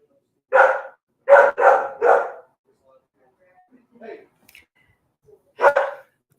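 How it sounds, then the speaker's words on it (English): A dog barks indoors in loud, close bursts: four barks in quick succession, then a pause with small faint noises, and one final bark. "I think it's she's done barking now."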